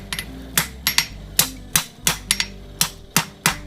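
A hammer strikes hot steel during forge welding in a smithy, landing sharp ringing blows close by in an uneven rhythm, about a dozen hits in quick succession.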